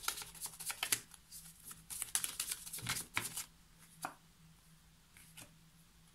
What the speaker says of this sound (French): Je vais tirer une autre carte hein, sur ça.